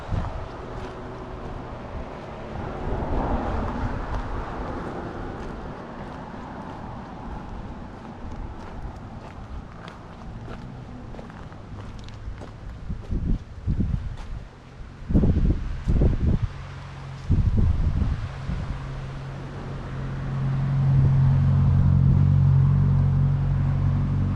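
Strong wind roars and buffets the microphone throughout at a rocky river gorge in Letchworth State Park, with gusty surges and rumbling low-end bursts building toward the end.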